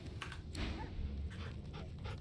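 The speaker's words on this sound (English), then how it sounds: "Hello, doggy." A dog in the video game Divinity: Original Sin II whimpers and yips softly over a low ambient rumble, with a few brief nasal cries spread across the moment.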